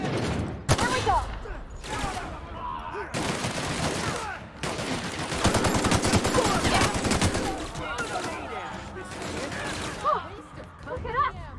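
Heavy gunfire in The Outer Worlds, a sci-fi shooter, with sustained bursts of automatic fire and rapid shots over about eleven seconds, loud and continuous, with voices shouting intermittently.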